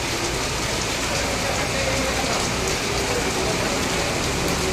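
Rain falls steadily in Goa during the monsoon, making a dense, even wash of drops on surfaces. The downpour stays constant and fairly loud throughout, with no voices.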